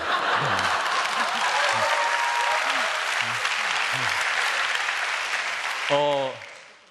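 A seated audience claps steadily and thickly at a talk about the M-Tree company, with a voice speaking over it, before the applause fades away at the end.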